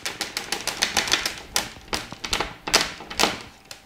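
Rapid rattling clicks and taps, irregular bursts of plastic clatter as a prototype combat-robot power switch is shaken close by, no voices.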